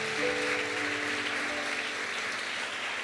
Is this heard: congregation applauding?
yes